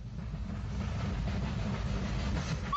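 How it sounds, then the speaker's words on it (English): An Isle of Wight Railway steam train approaches Smallbrook Junction, a continuous rolling rumble with rhythmic wheel clatter that grows slightly louder, with a brief high squeal near the end. "As a Ventnor train approaches Smallbrook Junction"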